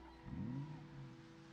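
Sports car engine in a zombie survival video game revs up quickly in a brief rising whine, then eases off into a lower fading hum, faint and without talk.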